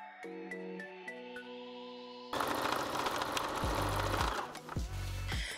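A sewing machine joins a piece of black fabric to the bottom of a dress, starting with a few short stitching bursts, then running steadily and loudly, with heavy clunking near the end.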